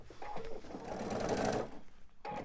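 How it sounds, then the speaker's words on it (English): A sewing machine stitches onto a fabric scrap while a slicker tote bag is being finished, with one short close run of rapid needle chatter that stops briefly, then restarts. "I am still going to sew onto my scrap."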